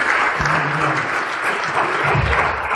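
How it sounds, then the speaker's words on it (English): An audience applauding continuously at a policy institute event, dense loud clapping with a few voices mixed in underneath. "Give him a big round of applause."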